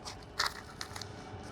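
Someone bites into a crunchy homemade sandwich outdoors in the wind, giving a few short, quiet crackling crunches over a soft steady background hiss.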